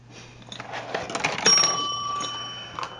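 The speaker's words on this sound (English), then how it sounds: "I have a little bell. I've got a little call bell." A small metal call bell is struck, giving a sharp bright ding that rings on and slowly fades, preceded by soft handling clatter and followed by a faint second tap.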